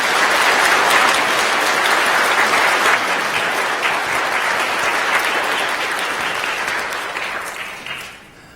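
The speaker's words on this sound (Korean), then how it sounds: "여러분들 축하의 박수 부탁드리겠습니다." A church congregation applauds graduates at a Sunday service, a dense steady clapping that stays loud throughout and fades out at the very end.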